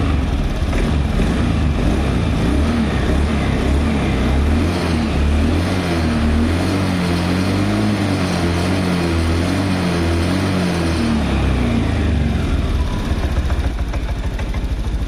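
A motorcycle engine runs loud and close for about fifteen seconds during an O2 sensor check on a bike that sputters badly, with its pitch rising and falling over a couple of throttle blips and no talk.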